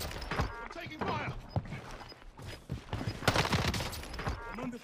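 Rapid gunfire in the video game Call of Duty Warzone crackles in bursts, with sharp close shots and mechanical clatter, while a player shouts excitedly over the shooting.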